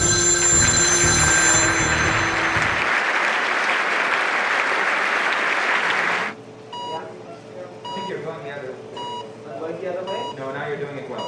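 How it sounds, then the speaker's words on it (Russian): In a Minecraft machinima, a loud electronic ringing chime like a school bell sounds through a burst of crowd noise, then continues as fainter beeping tones. "сейчас будет звонок"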